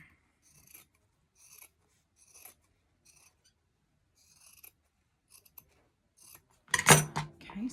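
Fabric cut with ordinary scissors rather than fabric shears while making a bunny wreath: several short, separate snipping strokes, close by, with quiet pauses between them and a louder rustle at the end.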